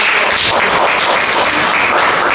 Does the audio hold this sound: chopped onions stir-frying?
no